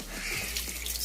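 Cold water poured into mixed chicken feed mash on a chicken farm, a steady close trickling and splashing that runs throughout the moment with no talk.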